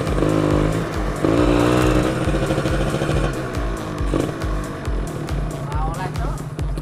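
A Kawasaki Ninja 150 SS two-stroke motorcycle ridden at night, its engine droning and revving up and down close by, with people talking over the ride.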